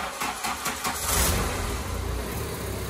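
A Volkswagen GTI 16v engine (ABF) runs close by with a steady low rumble after an oil change, briefly swelling before settling back into an even idle.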